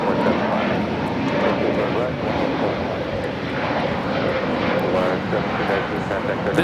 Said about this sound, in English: This is Volaris 1719 taking off to Guadalajara on the A320neo